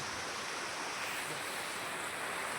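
Heavy rain pours down on a village during the first monsoon downpour, with floodwater entering homes, a dense, loud, unbroken roar of falling water throughout.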